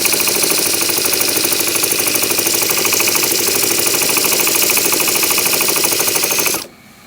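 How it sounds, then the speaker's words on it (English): A tiny homemade 7cc engine sputters loudly and unevenly, one cylinder struggling to fire in a rapid rattling stream of pops that runs steadily and then cuts off abruptly near the end. "It's like one cylinder trying to fire there."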